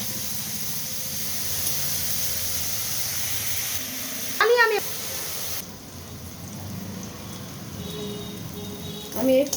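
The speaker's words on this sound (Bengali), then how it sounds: "তেলে আমি এই চিংড়ি মাছগুলো দিয়ে দিচ্ছি" Shrimp coated in turmeric and salt sizzle in hot oil in a kadai, a steady close hiss with a brief louder sputter midway. A voice talks faintly underneath.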